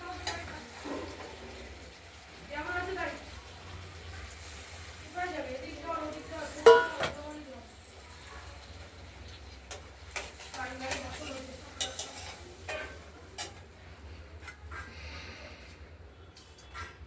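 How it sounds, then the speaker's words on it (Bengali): Fish curry with potatoes is stirred and fried in a pan, giving a low continuous sizzle with scattered scrapes and clinks of a utensil against the pan, while someone talks over it intermittently. "এবার আমরা নাড়াচাড়া দিয়ে এটা কষিয়ে নেব।"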